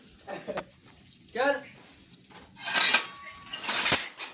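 Plates and dishes clatter and clink as they are handled for serving fried fish at a seaside fishing outing. The clattering comes in a few close, loud bursts, and voices are heard faintly in between.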